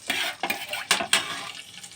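Mustard seeds being stirred in hot oil for amla pickle, a close, bright sizzle broken by quick scraping strokes of a spoon against the pan.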